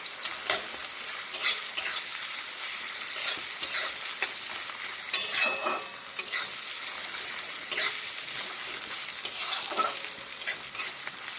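Vegetarian khichuri ingredients with ginger and chillies sizzle steadily in a pan while a spoon stirs in repeated scraping bursts, close and fairly loud, with no talking.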